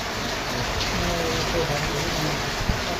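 Heavy rain falls steadily in Sri Karanpur, a dense, even wash of drops on surfaces with a brief sharp knock near the end.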